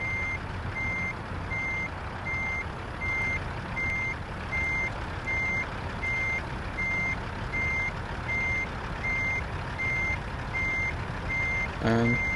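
A truck backs up and turns while its reversing alarm beeps in a steady, evenly spaced series over a constant engine rumble, with a brief air-brake hiss near the end.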